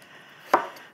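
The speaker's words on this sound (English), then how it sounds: "And here we go, chopping it up." A single knife chop through eggplant for caponata lands with a sharp, close thud on the cutting board, alone in an otherwise quiet kitchen.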